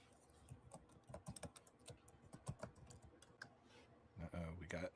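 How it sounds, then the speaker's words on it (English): Quiet, scattered clicks of computer keyboard typing come from somewhere in a room, irregular bursts of keystrokes, with a louder clatter near the end. "We got a typer somewhere."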